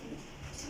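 Young Teddy pigeons give a soft, low cooing murmur, faint and brief, heard close and alone against quiet background hiss.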